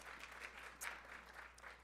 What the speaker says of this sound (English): So give her a round of applause in her absence.